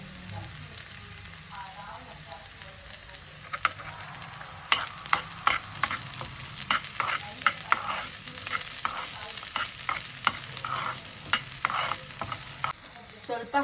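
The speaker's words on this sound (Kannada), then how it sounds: "ಇವಾಗ ಕರಿಬೇವು ಹಾಕ್ತಿದ್ದೀವಿ." Curry leaves hit hot oil with mustard seeds, cumin and golden-brown onion, giving a steady bright sizzle under a run of sharp scraping clicks from stirring, with no talk.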